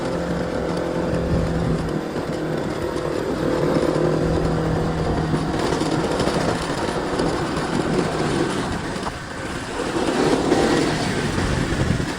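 A motorcycle rides a rural village road toward the foot of Mount Ciremai in Indonesia, its engine droning steadily and loudly with wind roar and road rumble throughout.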